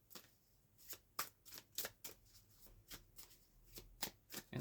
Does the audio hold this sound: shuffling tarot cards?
yes